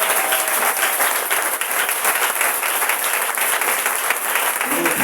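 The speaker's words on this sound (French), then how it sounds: "on acclame le Seigneur très fort" A church congregation applauds the Lord loudly during a worship service. Dense, continuous clapping fills the room without a break.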